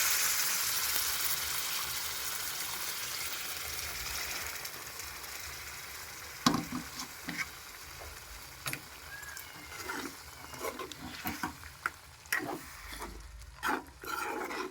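Water poured into chicken sizzling in a pan, a soft, steady frying hiss at first, then scattered sharp spits and clatters that grow more frequent near the end, close but fairly quiet.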